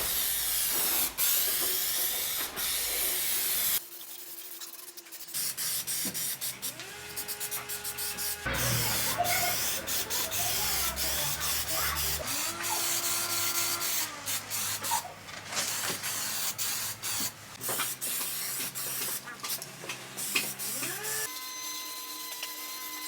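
A spray gun lays a quick test coat of Raptor coating on an abandoned Ford Sierra Sapphire RS Cosworth, giving a steady hissing spray in several bursts with short gaps, fairly close.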